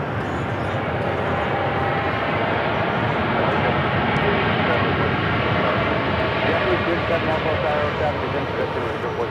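A delayed airliner arrives at LAX, its engines a steady, continuous broadband roar that holds loud and even throughout, with voices talking over it.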